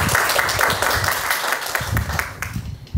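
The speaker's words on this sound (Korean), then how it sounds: "박수로 맞이해 주시기 바랍니다" Audience applause greets the panel chair at a policy debate on health insurance reform for rare disease patients: dense, steady clapping from a crowd that fades near the end.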